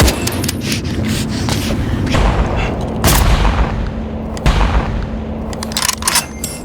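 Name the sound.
gunfire from sniper and rifles in a film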